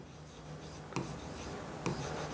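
A chemistry teacher writes notes by hand during a lesson, a steady soft scratching of pen or chalk with two brief sharper taps, quiet and close with no talk.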